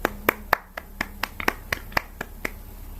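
A class claps hands during an online lesson, a sparse run of about a dozen sharp, separate claps spread over a few seconds, fairly close with no talk.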